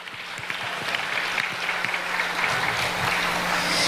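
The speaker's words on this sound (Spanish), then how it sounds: "Dale otro fuerte aplauso a la palabra de Dios." A church congregation applauds together, a dense, steady clapping of many hands that carries on evenly for a few seconds with no talk over it.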